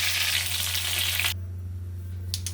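Whole cumin seeds hit hot oil and give a loud, bright hissing sizzle that cuts off abruptly after about a second, leaving a low steady hum and a couple of faint clicks.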